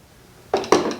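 Brass cartridge cases tumbling in a Lyman Turbo Media Separator cage, two quick metallic clattering bursts after a quiet start, close and alone.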